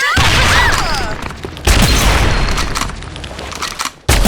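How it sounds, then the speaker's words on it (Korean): A grenade goes off in the online shooter Sudden Attack, a loud booming blast with scattered gunfire around it, followed by a second sharp impact just before the end. "수류탄 터진다!"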